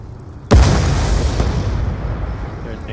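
A grenade blast in a tactical first-person shooter search-and-destroy match, one sudden loud boom followed by a long rumbling decay.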